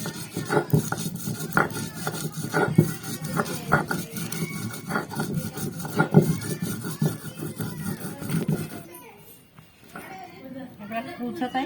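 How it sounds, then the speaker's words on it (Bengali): Rhythmic rasping and scraping of coriander leaves and green chillies being ground or crushed by hand, steady strokes close by, stopping near the end, with a person talking over it. "আমরা এখানে ধনে পাতা নিয়েছি, এগুলো পাটনাই ধনে, আর নিয়েছি কয়েকটা কাঁচা লঙ্কা। তো এবার আমরা এগুলোকে বেটে নেবো।"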